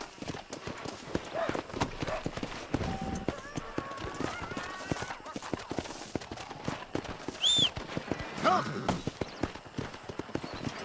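A horse gallops in Red Dead Redemption, its rapid rhythmic hoofbeats running steadily throughout, with a brief whinny partway through while someone talks over the action.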